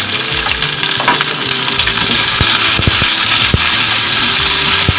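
Garlic cloves and small shallots sautéing in hot oil in a pan for Tamil garlic chutney, a loud, steady sizzle and crackle with occasional sharp clicks of a spoon stirring against the pan.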